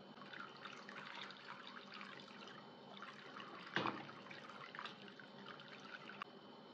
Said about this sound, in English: I'm going to lift my yarn back out of the pan.